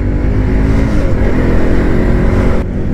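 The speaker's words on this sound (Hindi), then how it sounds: "N250 साउंड भाई बहुत ही ज़्यादा बढ़िया है यार।" An N250 motorcycle engine revs steadily and loudly while riding on a mountain road, a continuous dense engine roar with wind rush and no talking.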